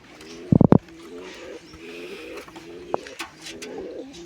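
A pigeon coos in soft, low repeated notes right up close, following a few sharp flutters or taps at the start, with faint chirps in the background.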